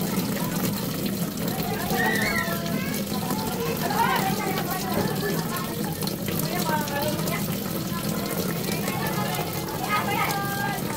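An LG automatic washing machine fills its drum with water, giving a steady rushing flow with a low hum underneath that carries on without a break, while someone talks over it.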